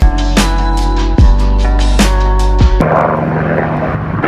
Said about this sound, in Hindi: अच्छी खासी शांति रहती है और फिर ये हेलीकॉप्टर वाले आ जाते